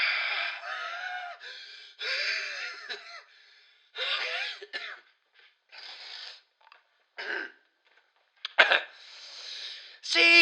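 A person close to the microphone takes deep, exaggerated breaths in irregular bursts, with gasping inhales and raspy, throaty exhales separated by short silences.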